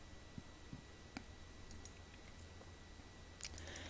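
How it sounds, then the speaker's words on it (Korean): Computer keyboard keys being pressed for Ctrl+A and Delete, a few faint, sparse clicks over quiet background hum, close by. "다시 컨트롤 A를 누르고 딜리트 키를 눌러주겠습니다."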